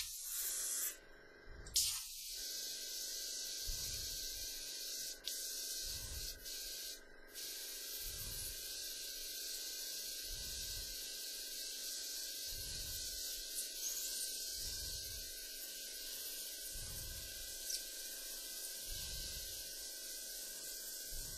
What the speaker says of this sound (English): I'm going to use the same in and out type action with pulsing the actual airbrush